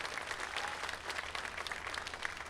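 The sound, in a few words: audience applause for electrical union workers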